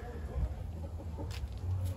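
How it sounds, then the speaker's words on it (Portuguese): Indian-breed chickens, one hen and two roosters, cluck softly in a backyard henhouse, faint low calls under steady outdoor background noise. "a galinha índia e os dois galos índios"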